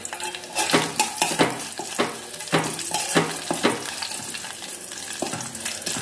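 Green chillies with cumin sizzle in a pan, a steady frying hiss broken by repeated scraping and clinking of a spatula stirring against the metal, close and fairly loud.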